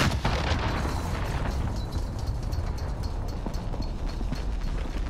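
A cruise missile detonates in Call of Duty: Modern Warfare, producing a sustained, loud, heavy explosive roar with crackling debris and rumbling bass throughout, with no talk.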